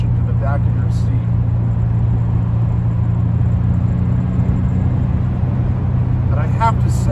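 A 1989 Maserati 430 with a 5-speed gearbox drones steadily from inside the cabin, a loud, low engine rumble under road noise that does not clearly reveal the acceleration or the downshift.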